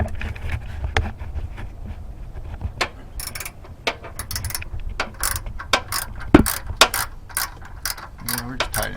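Ratchet wrench tightening bolts under a Chevy HHR during transmission removal, a rapid, continuous run of close clicking strokes with brief pauses, fairly loud and steady over low background hum.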